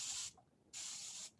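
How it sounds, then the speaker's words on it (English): Two sharp hissing bursts from a spray bottle misting water onto dry garden soil, each about a third to half a second long with a brief pause between, close and clear. "we need to moisten the soil with our spray bottle"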